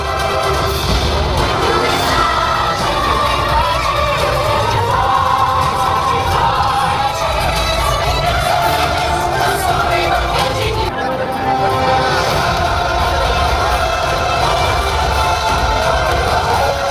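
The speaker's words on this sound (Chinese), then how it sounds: "最后一幕更是水与火之歌，水火光电一起来，场面甚是宏伟，获得一阵阵掌声" Sustained crowd applause and cheering at the finale of a water-and-fire show with lights and flames at VinWonders theme park on Phu Quoc, loud and continuous throughout with a dense, steady roar.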